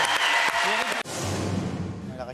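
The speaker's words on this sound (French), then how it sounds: "applaudissements pour cette transe magnifique" A burst of applause and cheering from a TV studio audience, following a loud voice, then continuing as a steady clapping crowd.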